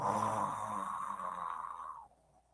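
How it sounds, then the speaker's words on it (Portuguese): A steady, drawn-out snore with a raspy, breathy texture that fades off near the end, close and fairly quiet. "O caçador entrou na casa e viu o lobo roncando"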